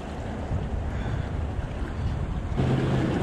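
Ocean water washing against the rocks of a jetty at Seal Beach around low tide, a loud continuous wash of waves and surf mixed with buffeting wind noise, with no talking.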